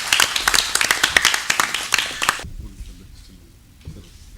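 A live audience claps and cheers at a film first-look launch event, a dense burst of applause for a guest coming onto the stage that stops abruptly, leaving faint room noise and scattered sounds.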